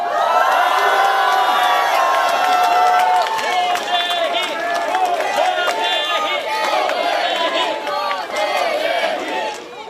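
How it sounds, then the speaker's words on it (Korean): At an outdoor election rally, a large crowd cheers and applauds as National Assembly candidates for Songpa are introduced, a loud sustained roar of shouts and clapping that fills the whole stretch. "한 분 한 분 소개해드릴 때마다 힘찬 박수와 성원 부탁드립니다."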